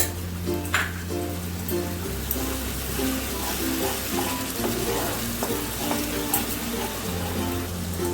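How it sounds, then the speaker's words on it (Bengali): Whisked yogurt stir-fried in a pan for paneer rezala gives a continuous crackling sizzle with occasional stirring, close up over a steady low hum. "সেই দইটাকে দিয়ে দিলাম দিয়ে ভালো করে কষাবো যতক্ষণ না তেল রিলিজ করছি"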